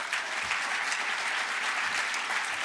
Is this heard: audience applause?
yes